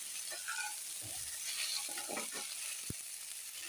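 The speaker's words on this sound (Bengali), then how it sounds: "নেড়ে দিচ্ছি ভালো করে।" Ginger frying in a pan while being stirred: a soft, steady sizzle with scraping and a few clinks of the utensil against the pan, and no speech.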